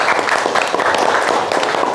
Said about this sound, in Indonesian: tepuk tangan untuk Mas Dimas